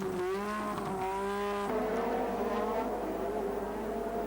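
1986 Formula 1 Grand Prix cars racing past, high-pitched engine whine shifting in pitch as cars approach and recede, steady and moderately loud.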